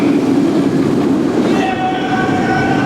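A roller coaster train on one of two side-by-side independent coasters roars steadily along its track, loud and close, with a dense rumble and faint whining tones coming through near the end.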